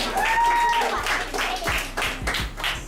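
A classroom in Ghana claps for a child: a short run of several sharp hand claps mixed with children's voices and talk, close by and fairly loud.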